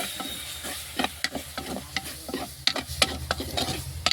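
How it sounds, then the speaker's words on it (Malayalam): Ground tomato stirred into a frying masala for a hammour fish curry, with a steady close sizzle under repeated scraping stirs in an irregular rhythm, no voices. "അപ്പം മസാല ഇതാ മൂത്ത് വന്നിട്ടുണ്ട് ഇതിലേക്ക് തക്കാളി അരച്ച് വെച്ചതാണ് അതും കൂടെ ഒഴിച്ചിട്ടുണ്ട്"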